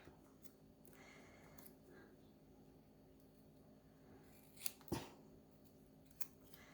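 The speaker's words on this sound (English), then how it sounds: "let's trim up this one a little bit more" Scissors snip scrap, with a few short crisp cuts standing out near the end over a quiet background.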